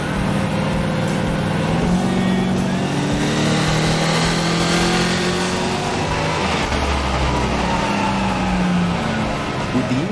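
A Commodore engine on a dyno revs through its load points during tuning, a loud, continuous engine note climbing and holding at steady pitches.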